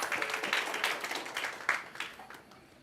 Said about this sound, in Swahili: Tujipigie makofi.